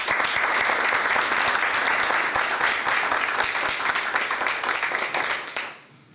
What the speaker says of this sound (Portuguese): peço uma forte salva de palmas a todos